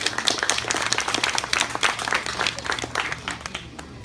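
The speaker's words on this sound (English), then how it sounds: "So let's give him another round of applause." A room of guests at a retirement party claps in a dense, lively round of applause, many hands close by, steady then thinning toward the end.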